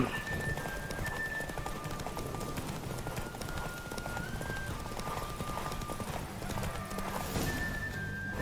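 Rapid hoofbeats of a galloping horse with a faint whinny, set against a constant background hum and synthetic tones, in the video game The Witcher 3.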